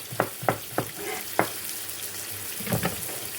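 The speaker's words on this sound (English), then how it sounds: "And continuing the frying as you cut it" Carrot and other vegetables fry in a pan for a Polish stir fry, with a quiet steady sizzle broken by a few sharp clatters and taps of stirring or cutting, and no talk.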